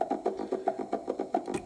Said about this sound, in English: Sine wave